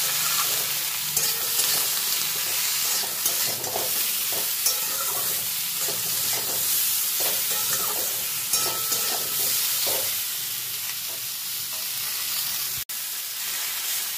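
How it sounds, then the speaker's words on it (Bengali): Vegetables seasoned with salt and turmeric sizzle and fry in a pan, with stirring scrapes and crackling over a steady frying hiss, close and continuous with no talk. "দেখুন সবজিগুলো সব ভাজা ভাজা হয়ে গেছে"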